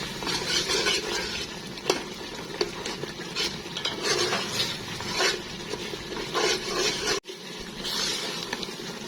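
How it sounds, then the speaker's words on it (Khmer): A spoon scrapes and stirs pounded curry spice paste frying in a pan, rhythmic scraping strokes over a steady close sizzle, with no talking. "យើងឆាគ្រឿងទាំងអស់នេះចូលគ្នាសព្វមក"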